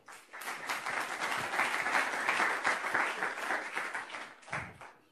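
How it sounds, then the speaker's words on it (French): Audience applause at a French industry conference as a government industry-service head is introduced, dense and steady clapping for about four and a half seconds before it thins out, ending with a single soft thump. "Vous pouvez l'applaudir évidemment."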